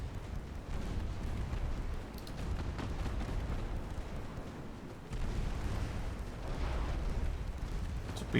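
Torpedo launch from a warship in a naval combat game, a low rumbling boom-like rush with sustained deep wash and a second surge midway, fairly loud and continuous.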